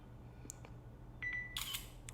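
An ASUS ZenFone 2 Laser camera takes a photo, with a few quick, faint electronic shutter clicks and blips in a quiet room.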